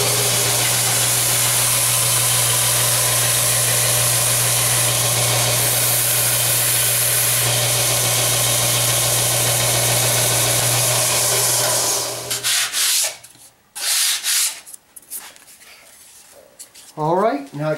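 A power sander trims guitar headstock wood for the nut with a loud, continuous whirring grind for about twelve seconds, then cuts off, leaving scattered handling knocks and rattles.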